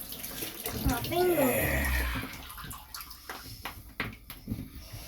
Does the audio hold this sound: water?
yes